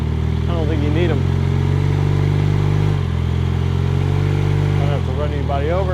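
A 1978 Honda CB400A Hondamatic motorcycle cruises with a smooth, steady mid-pitched engine drone close by, and a voice speaks briefly over it.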